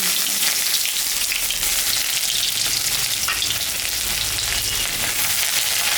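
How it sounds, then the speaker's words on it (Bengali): Nigella seeds temper in hot mustard oil in a wok, giving a loud, steady hiss and crackle with faint stirring, heard up close and uninterrupted. "একটু সর্ষের তেল দিলাম একটু কালো জিরা সম্বরা দিলাম"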